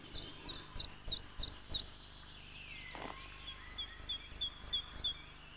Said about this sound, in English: And the chiff-chaff.